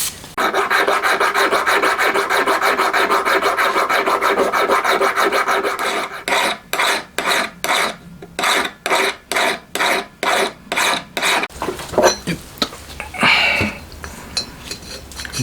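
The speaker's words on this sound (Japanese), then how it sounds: "隙間詰めは物理的に普通にヤスリでやっちゃいます。" A hand file rasps against a small metal valve part for a homemade DOHC motorcycle head, a continuous scraping that turns into a fast, even series of separate strokes, followed by light clinks as the part is handled.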